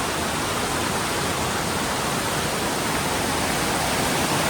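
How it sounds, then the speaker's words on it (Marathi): A powerful waterfall roaring as a dense, constant rush of water, loud and close, with no other sounds breaking through. "धबधबो जबरदस्त हा मंडळी."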